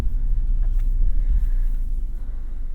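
A 2022 Subaru BRZ cruises on a cleared, salted winter highway, its low road rumble and steady engine drone heard from inside the cabin, continuous and moderately loud with no speech.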